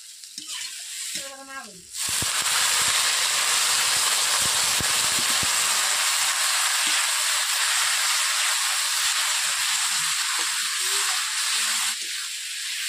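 Spices, pointed gourd and potatoes sizzle in hot oil in a pan as they are sautéed, a loud continuous frying hiss with occasional stirring scrapes and clicks, after a brief quieter start.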